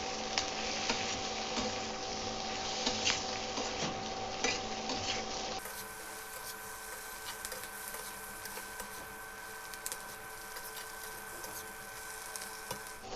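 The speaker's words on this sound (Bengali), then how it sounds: "দিয়ে দিচ্ছি ভেজে রাখা মাছের পিসগুলো এগুলোকে আবার এক থেকে দু মিনিটের জন্য ভেজে নেবো" Pieces of already-fried rohu fish fry again briefly in a pan for chilli fish, producing a continuous close sizzle with faint scattered pops and a slight drop in level partway through.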